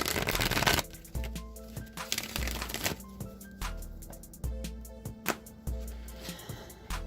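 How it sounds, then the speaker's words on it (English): Tarot cards are shuffled repeatedly, a burst of riffling followed by crisp rhythmic slaps and flicks of the deck, close up with no talking. "One more shuffle."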